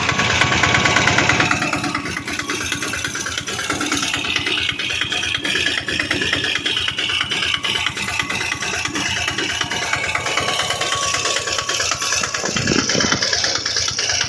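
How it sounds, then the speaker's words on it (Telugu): A 2019 Piaggio Ape three-wheeled passenger auto rickshaw in good running condition runs its engine close by. It makes a steady, continuous putter alone for the whole stretch. "ఒకసారి దీని ఇంజిన్ సౌండ్ అయితే మీరు వినొచ్చు"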